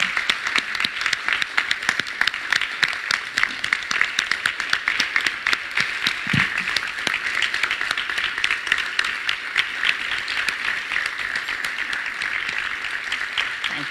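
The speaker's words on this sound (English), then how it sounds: "Let's give them an applause." A large audience applauds the 2023 class of distinguished educators at an evening celebration, with dense, steady clapping that continues evenly throughout.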